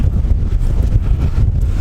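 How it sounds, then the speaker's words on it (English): Strong wind on a cold Irish coastline batters the microphone in a continuous low rumble, with gusts swelling and easing and no other sounds. "This wind is insane."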